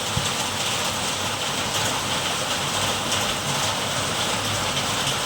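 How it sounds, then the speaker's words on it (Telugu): Heavy, steady rain drums on a metal roof, a dense continuous hiss and patter that stays loud and unbroken throughout. "సౌండ్ అయితే బీభత్సంగా వస్తుంది ఆ రేకుల సౌండ్."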